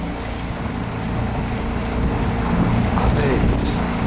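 Rough water slaps around a rowing eight in choppy conditions, with steady washing wave noise and wind buffeting the microphone, loud and continuous.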